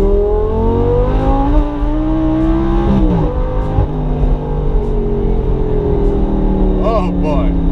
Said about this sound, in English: One last straightaway. Let's see what the Lamborghini can do.